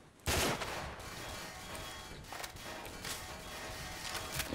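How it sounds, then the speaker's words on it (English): Shotgun fire in Garry's Mod: a loud blast opens the stretch, followed by a sustained wash of dense gunfire and further sharp shots, with no talking. "I just unloaded my shotgun at your face."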